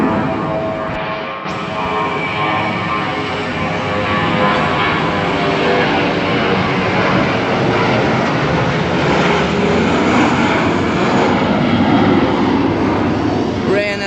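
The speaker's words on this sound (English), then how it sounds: "Plane taking off." An airplane takes off at Cologne-Bonn Airport, a loud, sustained roaring jet engine noise that swells gradually and stays strong throughout, heard from nearby on the ground.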